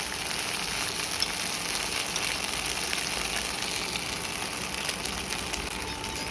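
Sausages stir-frying in a pan of green chilli, soy and tomato sauce, a steady close sizzle with faint stirring scrapes throughout, no voices over it.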